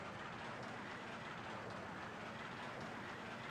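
A roller coaster train running over bunny hills at high speed in RollerCoaster Tycoon 2, a faint, continuous rushing rumble of rolling wheels with a light rattling texture.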